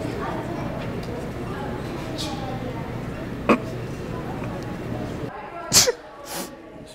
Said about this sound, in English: We're gonna walk around sneezing on people.